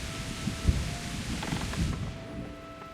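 Rain patters steadily in the medieval world of Kingdom Come Deliverance, with a couple of low rumbles of thunder breaking through near the start of the storm.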